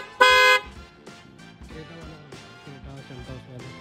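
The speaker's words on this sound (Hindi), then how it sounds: "इसके लिए भी आपको हॉर्न की आवाज़ सुनाता हूँ" A single short, loud car horn honk blares from a modified Triber car, followed by background music.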